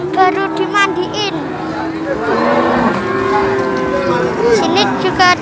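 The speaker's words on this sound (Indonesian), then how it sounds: "Di sini ada sapi jantan ya guys, baru dimandiin." A freshly bathed bull and other cattle low repeatedly at the Wirosari livestock market, loud and close with drawn-out moos, over a steady background murmur of market crowd noise.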